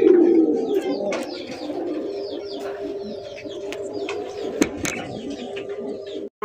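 Kagji pigeons coo steadily at a pigeon farm, a close, low, continuous cooing with a few brief chirps and scattered knocks.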